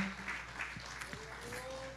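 A church congregation at a Pentecostal service applauding, a brief, moderately faint patter of many hands clapping together in a worship hall, with a voice briefly heard.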